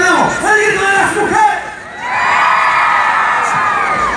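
Women in the audience at a comedy impersonator's show in Puebla shout and cheer together, a loud sustained crowd yell rising after a brief lull and holding steady to the end.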